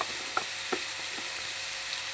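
Spices for gundruk curry fry with a steady, faint sizzle in a pan, broken by a few light scraping clicks as they are stirred.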